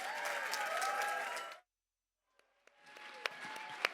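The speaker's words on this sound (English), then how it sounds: "Big round of applause for Nancy Ho, guys" Audience applause at a live speaking event, a loud sustained burst of clapping that cuts off abruptly, followed by silence and then a second, thinner round of clapping with a few sharp individual claps.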